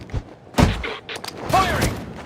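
Gunfire from the Batman Arkham Origins video game: sharp loud shots burst out in a short volley, with a sweeping electronic whine and game sound effects between them.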